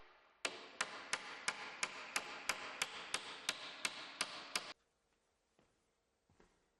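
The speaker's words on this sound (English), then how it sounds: "Directing the nails into the timber in a dovetailed formation will improve the strength of the joints." Nails driven into a timber stud wall by hammer, about a dozen sharp, evenly spaced blows close by, each ringing briefly, before the striking stops and faint handling noise remains.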